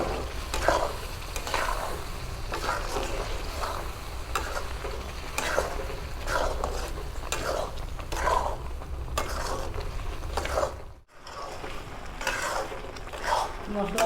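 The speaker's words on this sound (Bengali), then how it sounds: "মশলা ভাজা হয়ে গেছে, তেল বেরিয়ে গেছে" Spice paste sizzles in oil in a pan while being stirred for Bengali bish kochu curry, with repeated scraping strokes of a spoon against the pan and a steady background frying hiss.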